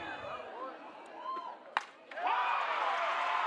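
Spectators at a high school state championship softball game in Arkansas react to a strike call, a steady murmur rising into a loud, sustained wash of crowd noise near the end, with a commentator talking over it.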